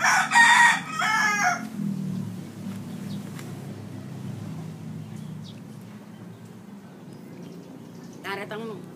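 A rooster crows loudly at the start, then fades into a low background rumble with faint distant sounds and a brief call near the end.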